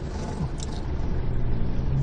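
Cars overtaking one after another in heavy, congested traffic, their engines a steady close rumble with a slight swell toward the end.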